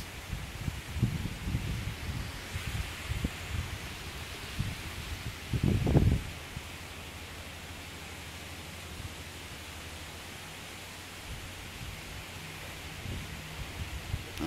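Gusting wind from Tropical Storm Bertha in a continuous broad rush, with rustling bursts and a louder buffeting gust in the middle before settling into a steady roar; no voices.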